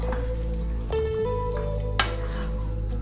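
Pasta with tuna being stirred and cooking in a pan, a continuous close sizzle with a low hum, a few tonal squeaks and a short scrape partway through.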